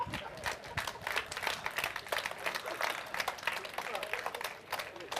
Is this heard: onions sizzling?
no